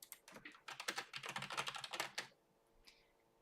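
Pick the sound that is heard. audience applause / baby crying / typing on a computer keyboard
typing on a computer keyboard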